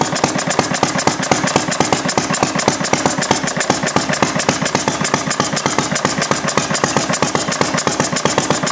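A glass-head engine runs slowly at about 250 RPM, each firing stroke a sharp, regular thump in a steady loping rhythm, with an occasional missed beat, close and loud throughout.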